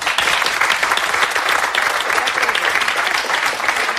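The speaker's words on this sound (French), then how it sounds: "vous applaudissez maintenant." Studio audience on a French television show applauds loudly and continuously, a thick wash of many hands clapping close and steady throughout.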